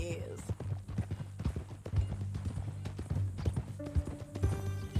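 Horse hooves clip-clop steadily at close range in the Red Dead Redemption 2 video game, a rhythmic walking gait under a low musical drone, with a voice talking over it.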